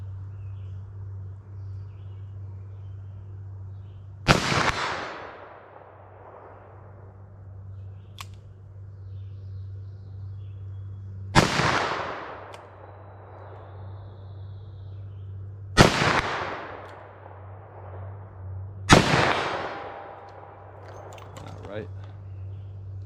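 Four loud, sharp revolver shots from .357 Magnum light handloads with 125 grain Sierra bullets ring out several seconds apart outdoors, each cracking then trailing off in a long echo over a steady low hum.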